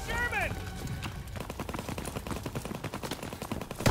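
Call of Duty: WW2 combat fills with a steady stream of rapid automatic gunfire, close and continuous, following a brief radio-style voice at the start.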